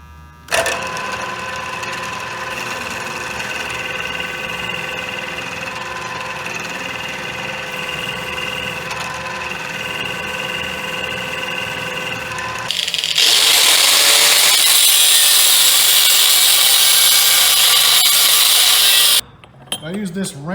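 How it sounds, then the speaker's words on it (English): Peck drilling with an end mill into a workpiece for a homemade Roman ballista, a steady whirring machine drone with a tonal hum that shifts to a harsher, louder cutting noise before stopping abruptly. "I'm going to use an end mill and kind of just peck drill this."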